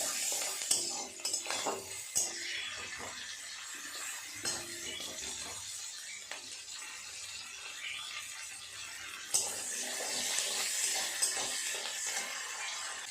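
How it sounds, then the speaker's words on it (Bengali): Chopped onions and green chillies frying in a pan give a soft, low sizzle beneath intermittent metallic scrapes and clinks of a spatula stirring, with a brighter burst of sizzling near the end. "ভালো করে নেড়ে চেড়ে পেঁয়াজটাকে ভেজে নেব।"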